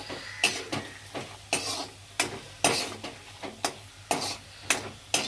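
A spoon scrapes and stirs ingredients sautéing in a pan on a low flame for bisibele bath, a steady rhythmic series of about a dozen close scraping strokes over a faint sizzle, with no talking.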